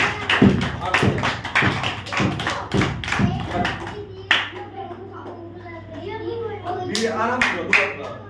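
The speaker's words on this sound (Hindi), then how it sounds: "शाबाश, ताली बजा दीजिए।" Children clap their hands in a classroom, a run of sharp, loud claps in a quick burst over the first few seconds, then sparser taps, with a voice and adult speech around them.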